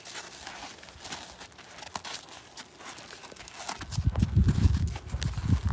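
A mare's hooves shuffle and thud on soft ground as she is turned around in a round pen, the steps growing louder and heavier near the end over a crinkling background.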